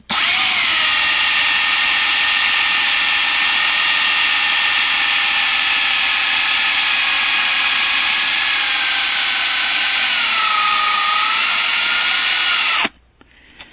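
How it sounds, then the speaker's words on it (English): A variable speed power drill whines steadily at high pitch while drilling out a rivet on a 1/64 scale Monster Energy die-cast car, the pitch dipping slightly under load before cutting off abruptly near the end. "Yeah, the variable speed drill is nice."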